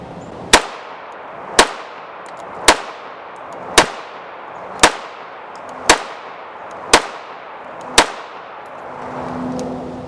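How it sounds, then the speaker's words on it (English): Eight sharp, loud gunshots from a Rock Island Armory RIA 5.0 pistol firing 124 grain rounds, spaced evenly about a second apart with short ringing decays, followed by quiet outdoor background. "We're going to try some 124 grains from Arms Corps, a little bit heavier bullet, maybe see some differences."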